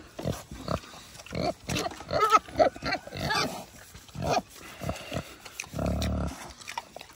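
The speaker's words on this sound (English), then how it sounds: "There's a good pig, Petunia." A pig at an animal sanctuary grunts repeatedly up close in short, irregular snorty bursts, with snuffling and chewing noises between grunts.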